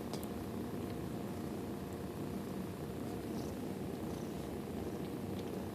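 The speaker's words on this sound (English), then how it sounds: "I don't know if you can hear her purring." A kitten's steady, low, rumbling purr runs close and continuous throughout, soft and unbroken, with no voices.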